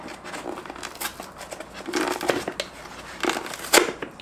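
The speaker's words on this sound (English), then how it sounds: "how am I supposed to open this box?" A cardboard book delivery box is pried open by hand, giving scrunching, crinkling and tearing cardboard sounds in uneven bursts, fairly close and loud, with no talking.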